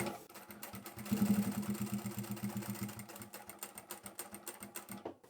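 A sewing machine stitches a fabric scissor keeper pouch, running in a steady, rapid mechanical rhythm close by, surging when it starts and gradually easing toward the end.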